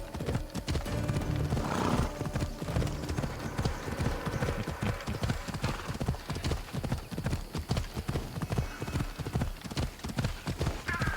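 Rapid, rhythmic hoofbeats of a galloping horse in Assassin's Creed Odyssey pound continuously, with a whinny early on and faint talk in the background.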